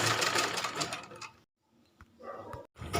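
Sewing machine stitching in bursts, loud and close: a long whirring run, a short pause, then two shorter runs with a brief stop between them.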